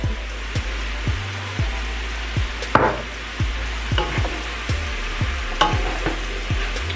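Vegetables cooking in a pan while pepper and salt go in, a constant loud sizzle broken by regular rhythmic scraping strokes of a utensil, roughly two per second, with one sharper clatter midway.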